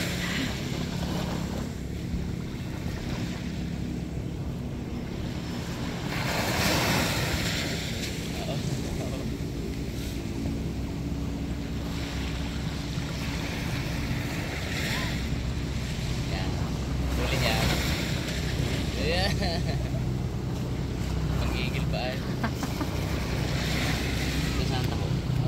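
Ocean waves and surf at sea, heard as a continuous rushing wash with wind buffeting the microphone, swelling at intervals across the whole stretch, with voices talking over it at times.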